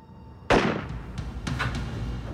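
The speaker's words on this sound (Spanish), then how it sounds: "Luego sonó un disparo." A single sharp, loud bang cracks out suddenly, followed by a decaying echo and a few softer thumps.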